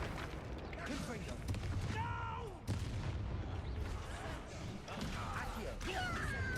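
The Confringo fire spell cast in Hogwarts Legacy, with fiery blasts, crashes and booming combat effects under game music while a voice calls out spell names.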